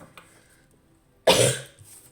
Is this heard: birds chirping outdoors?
no